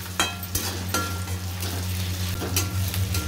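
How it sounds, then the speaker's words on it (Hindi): Garlic-ginger paste fries with onions in a pan for a Rajasthani methi sabzi, giving a continuous close sizzle broken by occasional scrapes and clinks of a stirring spoon. "अब लहसुन अदरक के पेस्ट को भी भून लेंगे।"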